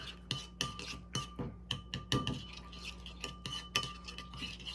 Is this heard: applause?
no